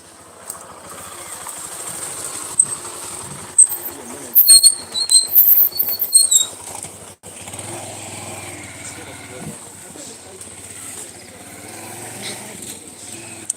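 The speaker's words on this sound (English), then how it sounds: "I was letting the motorbike go fast before I can continue." A motorbike's engine drones steadily at moderate distance as it goes past, the sound rising then fading across several seconds, with no talking over it.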